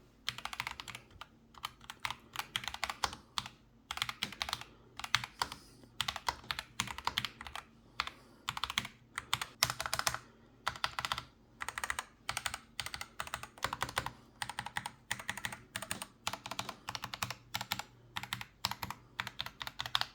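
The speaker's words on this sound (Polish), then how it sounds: "A teraz posłuchajcie jak ta klawiatura brzmi z mikrofonu, który lepiej wyłapuje wszystkie dźwięki." Typing on a Dark Project DPO 87 mechanical computer keyboard, a steady run of close, crisp keystrokes in quick irregular bursts with brief pauses, heard alone with no voices.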